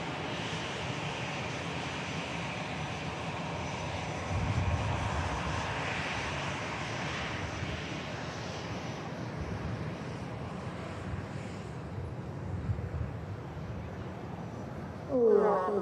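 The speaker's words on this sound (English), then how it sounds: "Just catch the Lufthansa leaving." A Lufthansa airliner departing Manchester Airport, its jet engine roar a broad, steady rumble heard from a distance and tinged by wind noise on the microphone, with no voices.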